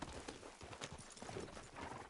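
Hooves clip-clop steadily as a horse is ridden in the video game Red Dead Redemption 2, a continuous rhythmic gait over a dense outdoor ambience, soft and even.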